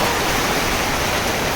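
Steady rain falls at Energylandia theme park, a dense, even hiss that stays constant and fairly loud throughout with no voices.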